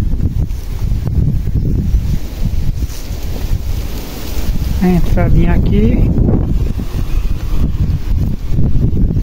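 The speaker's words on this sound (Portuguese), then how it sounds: "E o vento tá chegando." Strong wind buffets the microphone in a steady roar at a rural house under repair, lasting throughout with a person speaking briefly over it.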